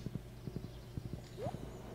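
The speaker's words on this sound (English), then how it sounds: "come on, horsey horse" Horse hooves clip-clop in a steady, repeated rhythm in Stardew Valley, with a single brief whinny partway through, moderately loud against a low game hum.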